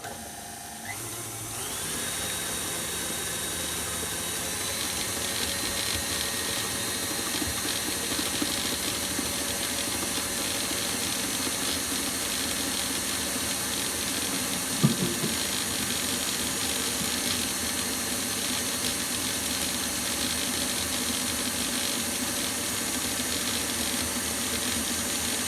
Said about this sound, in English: And now you mix it until it's very, very, very, very fluffy.